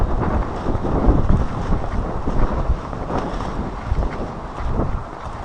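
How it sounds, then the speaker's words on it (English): Steady wind gusting across the microphone on an outdoor canal towpath walk in Birmingham, a loud, continuous broadband rumble that swells and eases throughout, with no talking. "It is quite windy today."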